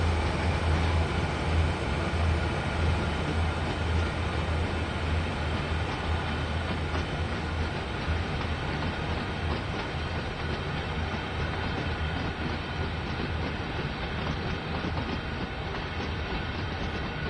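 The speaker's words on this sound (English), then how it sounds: "Watch the train go by, I think." A freight train rolling past in Train Sim World 3 on the Sand Patch Grade route: a long, loud, steady rumble with clattering wheels and a low engine drone, sustained throughout with no speech.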